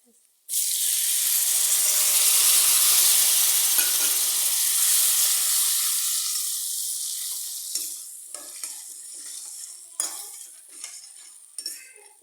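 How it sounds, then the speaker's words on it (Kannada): Tamarind extract for tamarind rice on a medium flame gives a loud, steady sizzling hiss that gradually settles into softer bubbling, with a few utensil clinks and stirring scrapes toward the end. "ಇದು ಗಟ್ಟಿ ಆಗೋವರೆಗೂ ಕುದಿಸಿ ಒಂದು 5 ಮಿನಿಟ್ಸ್ ಅಷ್ಟೇ, ಮೀಡಿಯಮ್ ಫ್ಲೇಮಲ್ಲಿ"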